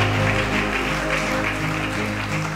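Audience at a legal gathering applauding steadily with dense clapping throughout, fairly loud and continuous with no speech over it.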